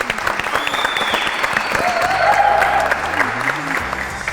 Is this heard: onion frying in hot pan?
no